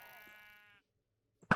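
A sheep in the Minecraft video game gives a short, sharp bleat after a sustained tonal tone and a brief silence, close and clear with no talk over it.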